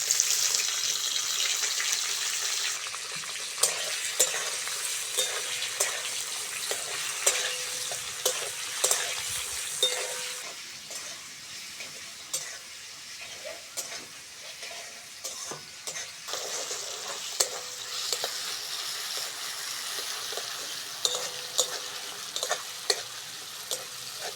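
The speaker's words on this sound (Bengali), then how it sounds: "পেঁয়াজ, টমেটো আর কাঁচা লঙ্কাটা হালকা করে ভেজে নিয়েছি।" Onion, tomato and green chilli frying in oil in a wok, a steady bright sizzle over the whole stretch with repeated sharp scrapes and taps of a stirring spoon, close, no voices.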